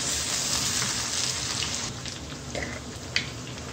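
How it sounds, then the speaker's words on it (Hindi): A steady oily sizzle of potatoes frying in oil in a pan for an aloo palak dish, close and even, with a faint clink near the end. "2 से 3 मिनट फ्राई कर लिए"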